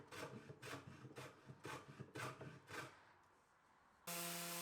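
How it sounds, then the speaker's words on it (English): A hand plane flushing the edges of a wooden nightstand makes six steady rasping strokes of steel shaving across wood, close and even in rhythm, before a quiet pause and a sudden loud steady tone at the end. "Here I'm just using a hand plane to flush up the edges."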